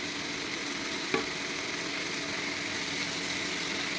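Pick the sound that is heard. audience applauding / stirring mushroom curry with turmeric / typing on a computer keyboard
stirring mushroom curry with turmeric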